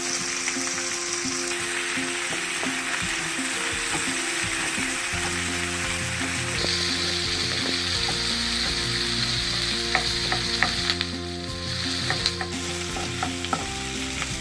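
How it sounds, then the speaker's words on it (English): Onions fry in a pan with a little salt for shahi paneer, giving a steady, close sizzle throughout with occasional stirring scrapes and clicks. "I'm gonna add some salt to this so the onions can cook fast"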